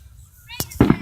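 Fireworks at a Fourth of July show burst with sharp, loud bangs, two close blasts in quick succession after a quieter stretch with a faint whistle, set against a low background rumble.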